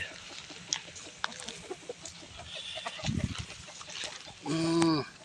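Chickens, including fighting cocks, sit outdoors in the sun and give scattered clucks and short calls, followed by one louder, nearer crowing burst near the end over faint background noise.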